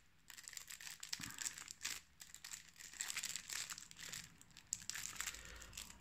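Plastic wrapping on a pack of board game event cards crinkles and crackles in irregular close, quiet bursts as fingers struggle to open it.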